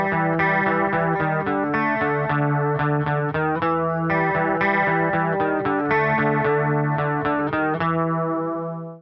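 A riff as written in an easy guitar book, played on a chorus-effected electric guitar as a repeating, steady, close run of picked notes with no talking.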